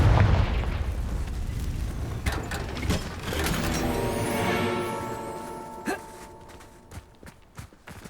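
Confringo fire spell explosions from the video game Hogwarts Legacy, with a heavy booming blast rolling into a ringing tail, followed by sparse sharp crackles and thuds.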